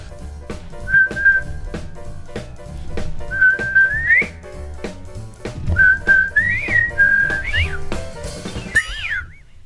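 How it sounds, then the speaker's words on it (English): A person whistles a short tune of sustained notes and upward slides in several phrases, close and clear with light background noise. "Next one, pretty easy, it's just whistling."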